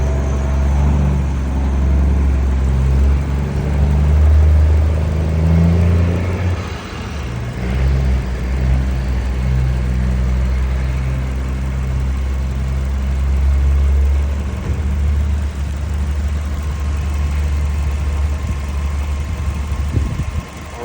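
A used car's engine idles steadily and shakes roughly, giving a loud, constant low rumble with a slightly uneven pulse that carries on without a break.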